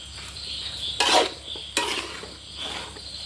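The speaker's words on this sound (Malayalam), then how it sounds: "നന്നായി അടി കൂട്ടി ഇളക്കി കൊടുക്കുകയാണ്." A spoon scrapes and stirs thick masala for fried fish in a pan, two distinct loud scraping strokes over a steady low sizzling background, close by.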